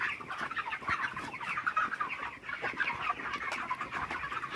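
Broiler chickens in winter, some of them sick and dying, cluck and chatter continuously inside a poultry shed, a dense flock sound with no speech.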